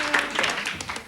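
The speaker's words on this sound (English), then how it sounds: "The audience clapped like mad then" A studio audience applauds on the 1977 TV game show Blankety Blanks, with a warm, dense wash of clapping from a large crowd that holds steady for about a second.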